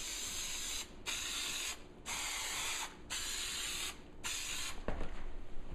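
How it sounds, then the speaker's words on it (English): Steady hissing bursts from an aerosol can of spray adhesive applied heavily to the back of a trunk liner for a Victory Vision lid, five long sprays about a second each separated by short pauses, close and fairly loud. "I'm going to spray real heavy in here so that you have more opportunity before that glue dries"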